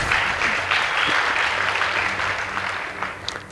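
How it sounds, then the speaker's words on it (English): An audience applauds a high school debate team at a competition, a continuous wash of clapping from many hands that holds steady and then slowly fades. "Please give them a round of applause."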